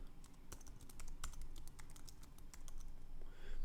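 Rapid typing on a computer keyboard: a quick uneven run of crisp key clicks, close and fairly quiet, with no voice.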